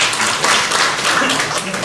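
Audience applause at a formal event honoring a regency head in Indonesia: steady, dense clapping from a crowd filling the whole short stretch.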